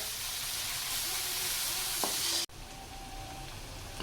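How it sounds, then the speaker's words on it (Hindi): Okra (bhindi) frying in a pan over a medium flame for bhindi gosht, a dense, even sizzle that suddenly drops to a quieter hiss midway, with a brief utensil clink. "अब इसको हमने 1 से 2 मिनट फिर भुनाई करनी है मीडियम फ्लेम पे इसकी"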